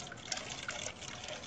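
Rusty water drains and gushes out of a household gas cylinder, a continuous close splashing trickle, with no voices.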